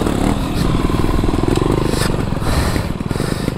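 A 2-stroke and a 4-stroke dirt bike revving together outdoors, giving a loud, close, rough engine roar with rapid pulsing that barely lets up for a few seconds.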